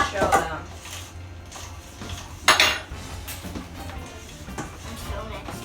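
A utensil scrapes and clinks against a bowl as homemade slime is stirred, with one louder clatter partway through, while voices chat nearby.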